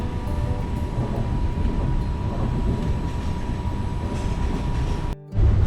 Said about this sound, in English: The train is a double-decker train today, and it's a really modern one